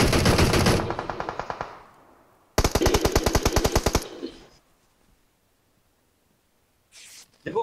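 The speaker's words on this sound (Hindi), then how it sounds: "एसकेएस पे सप्रेसर लगा हुआ है।" Suppressed SKS rifle fire in PUBG: rapid rhythmic bursts of sharp muffled shots, loud and close, with two volleys separated by a short pause and quieter game sounds after.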